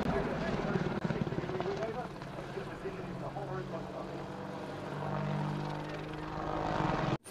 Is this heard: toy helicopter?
yes